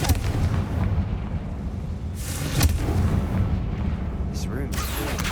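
Fiery Confringo spell blasts in the video game Hogwarts Legacy, two or three sharp bursts over a loud, dense rumble of game sound.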